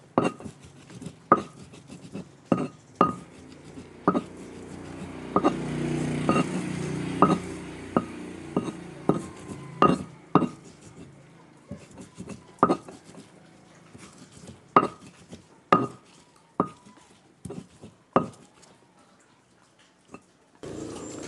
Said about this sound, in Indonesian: Kita ulek sampai lembut ya teman-teman, sampai halus.